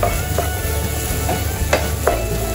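Egg bhurji frying in a kadai, a steady loud sizzle with a few scraping stirs of the spatula, close and without talk.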